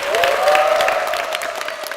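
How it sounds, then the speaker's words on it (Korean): A church congregation claps in welcome. The applause is dense and steady across a large room and stays loud throughout, with a faint sustained tone from a microphone or instrument under it. "큰 박수로 맞아주십시오"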